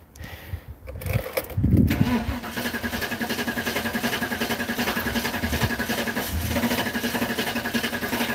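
LS1 V8-swapped Valiant hardtop cranking hard before catching, then settling into a steady, loud, throbbing idle with a faint squeal of belts riding above it.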